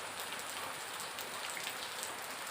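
Heavy rain pours down in a steady, dense hiss of drops hitting surfaces close by. The downpour is constant, with no voices over it.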